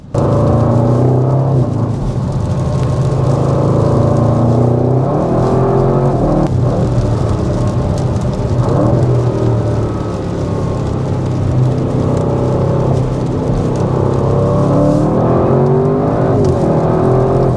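A 2025 Audi RS6 GT estate car drives hard through a corner on a wet road, its engine a loud, continuous roar that rises and holds with steady road and tyre noise underneath.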